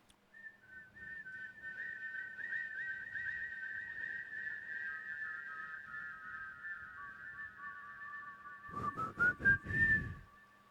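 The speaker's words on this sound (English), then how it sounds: "The whistling abruptly stops." Eerie, sustained whistling from a film scene carries a wavering tune for about nine seconds, then is cut off by a few loud, heavy thumps near the end.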